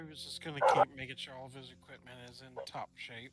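A pet dog named Dobby barks and yips a few times indoors, short sharp bursts mixed under a man's ongoing speech.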